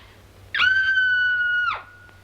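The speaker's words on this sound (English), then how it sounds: "I'm so nervous I could scream. In fact, I think I will." A woman in a 1941 film lets out one sustained, high, steady scream of nervousness, loud and close, lasting about a second before cutting off into quiet.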